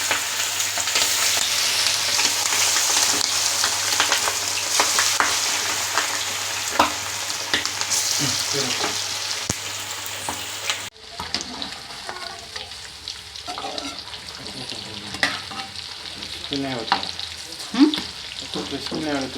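Chicken kebab pieces fry in hot oil in a pan, a steady loud sizzle with occasional stirring clinks and scrapes, continuous throughout and close by, no voices.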